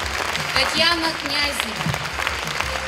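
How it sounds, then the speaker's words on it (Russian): Audience applause as presenters from the direct sales business are called onto a stage, clapping running throughout under a voice announcing names. "Аплодисменты."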